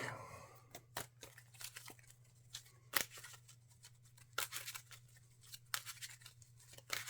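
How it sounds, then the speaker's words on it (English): A pile of playing cards being shuffled during a Marvel Champions card game, a faint, quiet run of irregular papery flicks and snaps, with no talk. "there I go, shuffling my discard pile"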